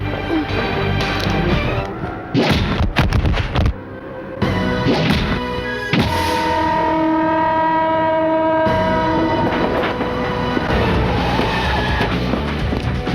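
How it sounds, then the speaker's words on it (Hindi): A train draws near amid a busy film scene, a horn-like tone rising over rumbling and clattering, with sharp thuds early on and steady loud noise throughout. "सर, लगता है ट्रेन आ रही है।"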